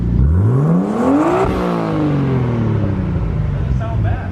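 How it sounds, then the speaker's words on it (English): A slow car's engine revs hard, the pitch sweeping up sharply and then falling back to a steady drone, loud and close with no talking. "That sounds so good for such a slow car."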